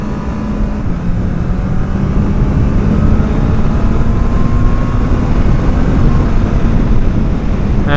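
Honda CB650R motorcycle engine (2024, with E-clutch) holds a loud, steady drone with a sustained low pitch throughout, running continuously close by with no talk over it.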